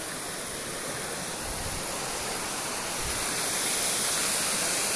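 Water rushes over a river weir in a steady, loud, broadband roar that holds unbroken throughout, slightly swelling toward the end, with no voices.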